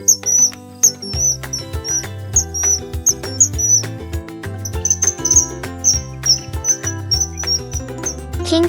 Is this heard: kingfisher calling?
yes